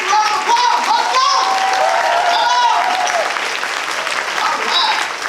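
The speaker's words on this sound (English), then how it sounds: "Let's give Texas a big round of applause." Loud, sustained applause from a large conference audience in Dallas, Texas, with cheering and whoops on top, running steadily for the whole stretch.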